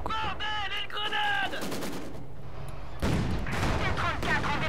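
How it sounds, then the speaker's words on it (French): Anti-tank gun fire booms in the video game Company of Heroes 2 amid explosions and battle noise, with brief bursts of chirpy game effects over a constant rumble. "Eh mince, c'est un canon anti-char"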